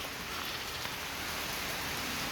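Steady rain pours over an outdoor Christmas celebration venue, a dense, even hiss of drops on surfaces filling the whole stretch with no voices.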